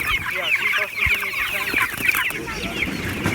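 Pastured poultry chickens cluck and chatter continuously in a busy flock, close and steady, with no talk over them.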